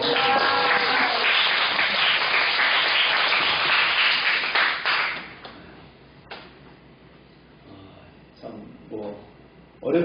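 Applause from a church congregation, congratulating a soldier who earned special warrior status, fills the first five seconds loudly and steadily, then fades to scattered claps and quiet room noise.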